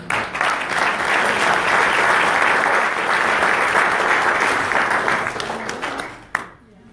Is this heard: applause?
yes